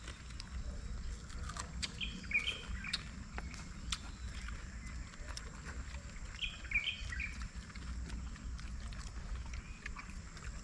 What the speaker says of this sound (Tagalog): May ibon po doon naglilimlim.